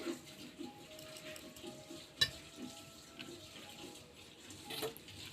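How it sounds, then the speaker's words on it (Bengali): Soft, faint squishing and stirring as salt and whole cumin seeds are hand-mixed into a ground ginger, poppy seed and mustard paste for lentil fritters, with one sharp click midway. "প্রথমে এতে কিছু উপাদান মাখাবো। লবণ, গোটা জিরে,"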